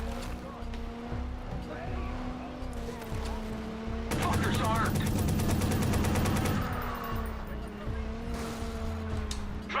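Rapid automatic gunfire bursts for a couple of seconds from a moving vehicle in Watch Dogs, loud over a steady engine drone and other game sounds, with a voice talking around it.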